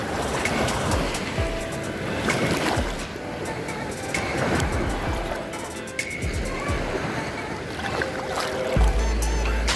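Heavy surf rolls in at Sealine Beach in Mesaieed, a constant close roar of breaking waves with gusts of wind across the microphone and a low thump near the end.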